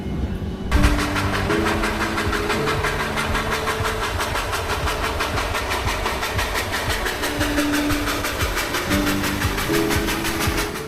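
A rush hour commuter train in Japan rumbling along steadily, close and continuous, with rhythmic clatter over the rails and sustained tonal hums from the engine and carriages.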